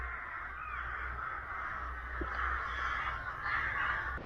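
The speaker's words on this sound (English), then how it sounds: "And more crows behind." Crows caw in the distance over a steady low rumble of outdoor background noise on a hilltop hike in the South Downs, a few harsh calls drifting across the scene.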